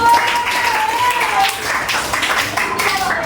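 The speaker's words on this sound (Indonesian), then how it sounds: "Tepuk tangan untuk Taufikus." Sixth-grade classroom applause for a student: a loud, dense burst of many small hands clapping, with a voice talking over it.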